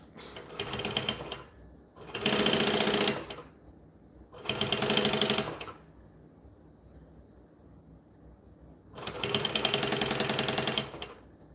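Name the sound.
sewing machine stitching bonded nylon fabric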